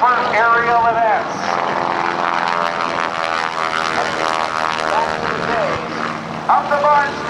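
A propeller stunt plane, the Barnstormer flown by John Mohr, performs aerobatics at the 2008 NAS Oceana Airshow, its engine droning loudly with rising and falling pitch as a loudspeaker announcer talks over it.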